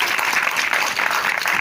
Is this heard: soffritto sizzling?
no